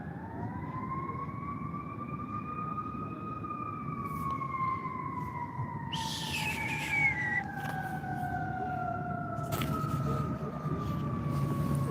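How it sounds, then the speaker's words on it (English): An emergency vehicle siren sounds a long, slowly rising and falling wail at moderate distance over steady outdoor background noise, with a brief louder burst midway. "Sounds like another siren going on."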